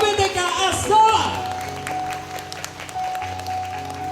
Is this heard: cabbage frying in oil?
no